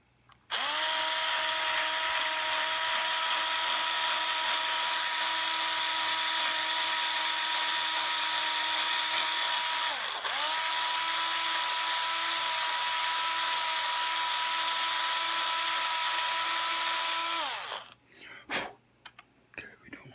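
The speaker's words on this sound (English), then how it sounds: "Now I got to drill another hole and start this next one." A small high-pitched drill whines steadily for about seventeen seconds while boring a hole in a Fender Squier Stratocaster guitar headstock, with a brief dip midway, then stops, followed by a few clicks and handling noises.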